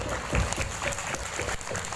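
Dense, fairly distant crowd applause at a school stage performance by madrasah tsanawiyah students in Blitar, East Java, a short continuous patter of many hands.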